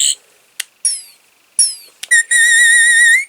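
Electronic warbling tones from a Wand Company Tenth Doctor sonic screwdriver toy: short chirps and sweeping whistles, then a sustained bright buzzing hum held for about a second, loud and close with no talk.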